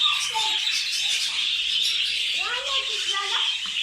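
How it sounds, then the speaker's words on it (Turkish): Many budgerigars at a zoo chirping and twittering together in a steady chorus, with soft chatter and occasional louder calls rising over the busy background. "Görüyorsunuz çeşit çeşit bir sürü muhabbet kuşu var"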